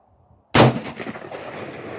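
A Radical Firearms AR-15 rifle fires a single loud, sharp shot at a range, followed by a long rumbling echo and a faint metallic ring.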